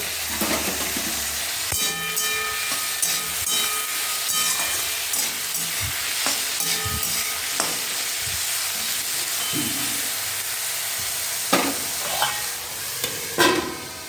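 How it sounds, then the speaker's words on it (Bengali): Food sizzling in a pan with salt and turmeric, a continuous frying hiss with occasional clinks and scrapes of stirring, close and steady throughout. "এগুলোকে আগে ভালো করে ভেজে নেবো।"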